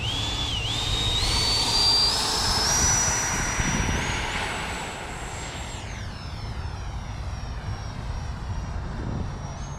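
FMS Integral 80mm EDF model jet in flight, a loud whining electric ducted fan with a rising then falling high-pitched whistle as it passes, steady rushing engine noise throughout, no talking.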